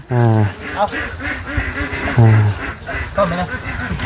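Ducks quack loudly and close by in repeated nasal calls, mixed with people talking in an outdoor rural setting.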